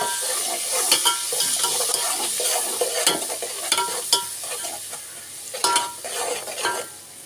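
Spices for a Karachi restaurant-style dal mash fry sizzle in hot oil in a pan, with repeated scraping stirs and clinks of a utensil against the metal, close and fairly loud, with no talking.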